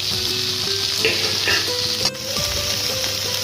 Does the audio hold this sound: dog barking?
no